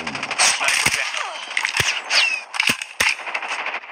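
Sniper rifle fire in Call of Duty: several sharp, loud shots spaced irregularly over game ambience, with a brief whistling whoosh between them.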